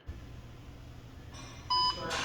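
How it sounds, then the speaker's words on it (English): A short electronic beep from a wheel balancer sounds once, clear and steady, over a low background hum, followed by a faint noise. "Once we get to green, that's where it wants to, you'll hear a beep."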